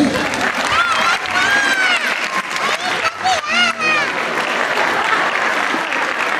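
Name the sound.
applause for the comedian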